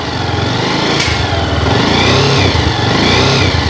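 A 2014 motorcycle engine with a heavy build revs steadily up close, a smooth, continuous mid-pitched roar that swells slightly and holds without pause, with no voices present.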